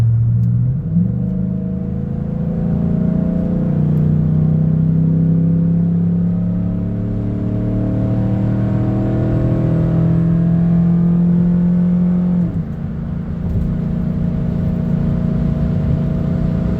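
A Chevrolet Silverado truck engine fitted with a cold air intake drones steadily and loudly from inside the cab while cruising, with a deep rumble, gentle pitch swells and a brief dip near the end.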